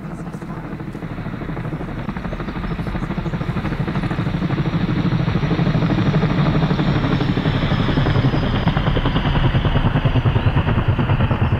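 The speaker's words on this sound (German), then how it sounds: "Ich höre auch Helikopter." In the ArmA 3 video game, a combat helicopter's rotor drones and thumps steadily, building gradually louder as it approaches overhead, loud and constant throughout.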